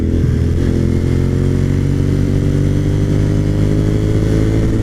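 A 20-year-old Suzuki TL1000R V-twin with 150,000 miles rides in second gear at low speed, its engine giving a steady, loud, close-up throb with a lumpy pulsing rumble and no talking.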